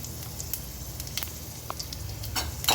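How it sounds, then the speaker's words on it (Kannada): Broken dried red chili pieces crackle and sizzle in hot tempering oil for a kayi bajji saaru, a steady close hiss with scattered sharp pops and a slightly louder burst near the end. "ಒಣಮೆಣಸಿನ್ಕಾಯಿ, ಅದನ್ನು ಈ ಥರ ಪೀಸ್ ಮಾಡಿ ಒಗ್ಗರಣೆಗೆ ಹಾಕ್ಕೋಬೇಕು"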